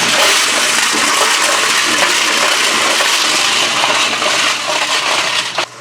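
A homemade steel parts tumbler runs loudly, a dense continuous rattling and grinding roar of metal tumbling inside, close and steady, dropping off abruptly at the very end.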